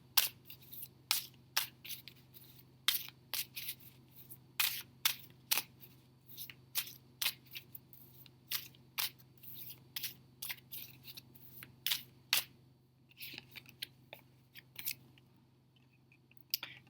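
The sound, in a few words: tarot cards being pulled from the deck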